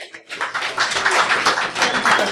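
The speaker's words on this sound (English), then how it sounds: "Please give a welcome applause." An audience at BSides San Francisco 2016, a security conference, claps to welcome a speaker, a steady close burst of applause lasting a couple of seconds.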